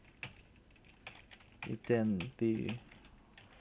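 Quick, soft clicks of typing on a computer keyboard during a MySQL setup on Ubuntu Linux, scattered taps under a quiet voice speaking briefly.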